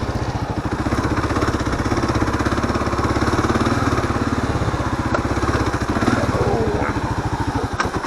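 Kawasaki KLR dual-sport motorcycle ridden in first gear on a rough camp trail, its single-cylinder engine chugging in a steady loud pulse throughout, close and continuous with some wind noise.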